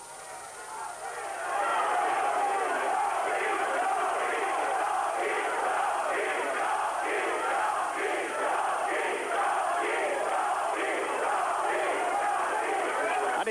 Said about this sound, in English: The Italian fans cheering for Rocky